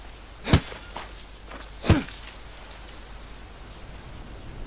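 Rain pours in the jungle survival game Green Hell as a steady, soft hiss, broken by two louder thudding steps close by. No one speaks.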